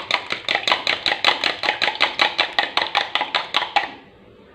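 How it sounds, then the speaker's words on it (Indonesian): Eggs are whisked briskly in a bowl for coating tempeh balls, a fast, regular run of sharp clicking strokes about four per second, close and clear, then stopping abruptly. "Ini telurnya kita kocok terlebih dahulu."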